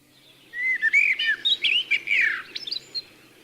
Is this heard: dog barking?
no